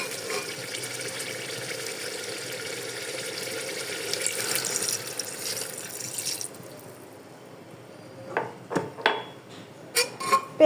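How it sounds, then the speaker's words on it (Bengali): Water is poured into braised beef curry in a pressure cooker, a steady broadband rush lasting several seconds that then stops, followed by a few short clinks and drips close by. "এখন আমি পরিমাণ মতো ঝোলের পানি দিয়ে দেব"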